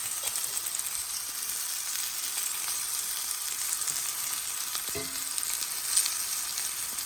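Beef pieces for stroganoff searing in a hot pan, a steady bright sizzle with a faint clink partway through.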